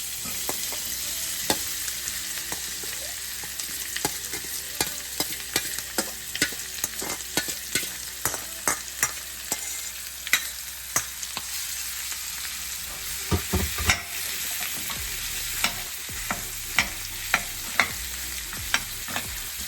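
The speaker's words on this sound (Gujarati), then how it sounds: "હવે આપણે એની અંદર બટાકા નાખી દઈશું કે જે આપણે બાફીને મૂક્યા છે તે" Boiled potatoes going into a pan of frying masala for a cheesy Frankie roll filling, with a continuous sizzle and frequent sharp spoon scrapes and taps as everything is stirred and mashed, close up.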